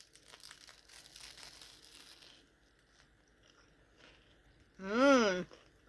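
Crisp crunching bites into a toasted-bun chicken, bacon, mushroom and kale sandwich rustle for a couple of seconds, followed by quieter chewing and a short, pleased voiced hum near the end.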